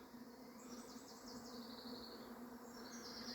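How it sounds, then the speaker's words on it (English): Bees buzz steadily around an old Briggs and Stratton generator outdoors, a faint continuous insect drone with a low steady hum beneath, no talking. "them bees are starting to sniff me out"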